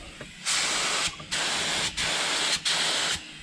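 HVLP spray gun spraying lacquer, three loud sustained bursts of airy hiss, each about a second long, separated by short near-silent pauses.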